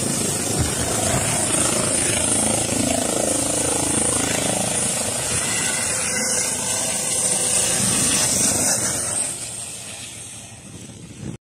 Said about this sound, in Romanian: iar în sprijin a sosit și un elicopter